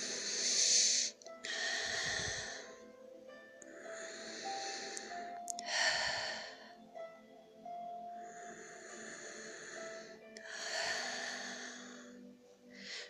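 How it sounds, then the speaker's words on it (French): A person takes three deep breaths during a guided relaxation session, each a long airy inhale and exhale close to the microphone, evenly spaced and slow, with no talk over them. "3 respirations profondes"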